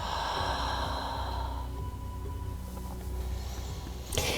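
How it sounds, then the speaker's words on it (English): A slow yoga breath during a beginner session, one long audible exhale like a soft sigh fading out over a few seconds, close and quiet, followed by a faint inhale near the end. "Breathing in and breathing out."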